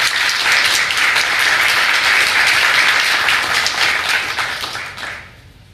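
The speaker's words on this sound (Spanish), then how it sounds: "Damos un aplauso" An audience at an economics research award ceremony gives loud, sustained applause that holds steady, then thins out and fades to quiet near the end.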